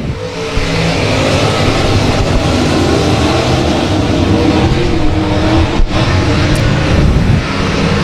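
Race cars roar at full throttle on an oval track as a pack accelerates toward the start-finish line, a loud, dense, continuous engine drone with overlapping cars and no pauses.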